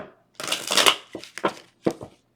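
Several quick papery riffles of tarot cards being shuffled, close by, in short bursts with brief pauses between them.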